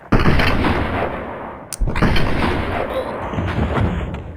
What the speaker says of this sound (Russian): Хтось убив пістолетом.